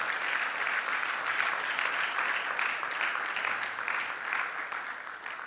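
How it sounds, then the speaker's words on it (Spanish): Steady, dense applause of praise from a large church congregation during a sermon, continuous and even throughout. "Dale otro aplauso de alabanza al Señor, Él lo merece."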